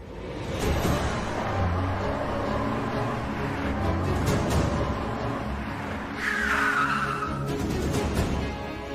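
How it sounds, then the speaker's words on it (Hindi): A car skids to a sudden stop in a Hindi TV drama scene. A loud engine and road roar builds, and a sharp tire squeal sweeps across midway before the noise settles. "क्या हो गया, तुमने गाड़ी को रोक दी?"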